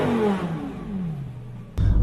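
A car engine revved hard in neutral toward its red line, loud and close, the pitch sweeping steadily downward as the revs fall, then cut off by a sudden thump and low rumble near the end.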